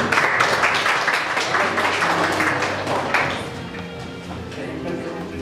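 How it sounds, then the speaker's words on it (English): Applause from an audience at a Republic Day celebration held at a university in Cheboksary, Russia, with claps blending into a dense wash that fades slightly partway through. "cheering applause."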